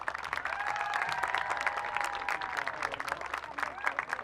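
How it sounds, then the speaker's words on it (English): Crowd applause for college staff at a women's lacrosse tournament, dense steady clapping with a few shouts and sustained cheering voices, fairly loud and continuous throughout. "Let's give all of these individuals and the entire Young Harris College staff a round of applause."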